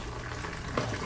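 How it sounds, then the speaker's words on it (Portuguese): Tomatoes rinsed one by one under running tap water, a steady close rush of flowing water with a brief splashy disturbance near the end. "Agora eu vou enxaguar um por um,"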